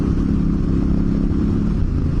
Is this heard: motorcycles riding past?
yes